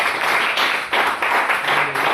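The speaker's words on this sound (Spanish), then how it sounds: "¿Cuántos aplauden al Señor?" A church congregation claps together in loud, rhythmic bursts, many hands striking in time close by with brief dips between beats.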